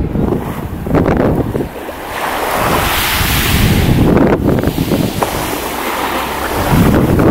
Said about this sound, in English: Here's Aguari Beach before the hordes descend upon it.